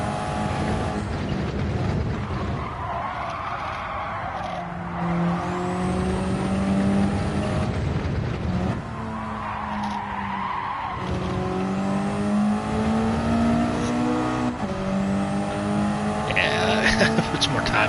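A race car in Gran Turismo 7 revs and shifts through gears, its engine rising and falling with bursts of tire squeal, running continuously under someone talking.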